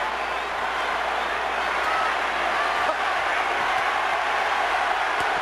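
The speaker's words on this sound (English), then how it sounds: "The crowd have really got into this" A packed arena crowd at the Pacquiao vs Clottey boxing match roars in a continuous, even wash of noise, with faint clicks and murmurs in the mix.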